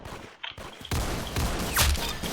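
A gunshot headshot in the online shooter game Arsenal: sharp gunfire bursts with a dense, loud blast of sustained shooting after a brief quieter lead-in with a few clicks and footstep-like taps.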